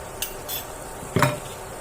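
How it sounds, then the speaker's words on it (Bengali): Prawns with ginger paste are stirred in a pan, with a few sharp metallic scrapes and knocks of a spatula against the pan over a faint sizzle. "চিংড়ি মাছটাকে একটু নেড়ে নিই।"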